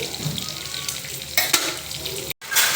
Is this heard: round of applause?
no